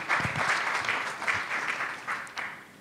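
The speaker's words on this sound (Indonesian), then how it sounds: "kita aplaus dulu buat Pak Kasubdit" An audience at a public consultation meeting claps for the sub-directorate head, a dense burst of applause that starts strong and slowly thins out over a few seconds.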